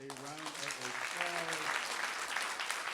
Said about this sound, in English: Give the wonderful panelists a round of applause.